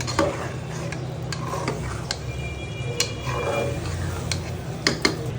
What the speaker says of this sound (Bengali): চালটা সুন্দর করে নাড়া দিয়ে দিব।